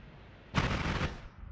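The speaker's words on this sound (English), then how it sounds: "What are those explosions?" Explosions in a modded video game, one sharp loud burst rolling into a noisy rumble of about half a second that fades out, alone without talk.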